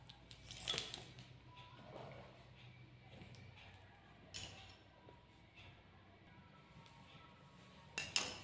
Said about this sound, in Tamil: நான் கட் பண்ணி முடிச்சிட்டேன்.